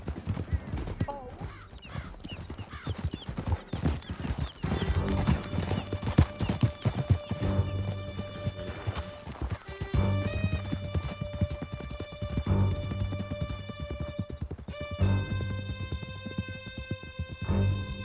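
Galloping horses in Red Dead Redemption 2, a steady clip-clop of hooves with an occasional whinny, layered under swelling game music and brief bursts of character dialogue throughout.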